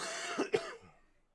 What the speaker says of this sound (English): getting real tired of this cough, guys.